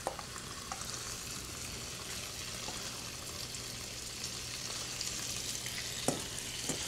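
Apple pieces sear in a hot pan with a continuous broad sizzle, close and steady, with a couple of faint utensil clicks and no talking.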